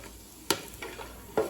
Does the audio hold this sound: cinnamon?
yes